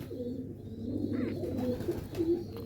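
Pigeon held in hand, a seasoned flying pigeon giving soft low cooing murmurs close by, a few gentle repeated coos over quiet background.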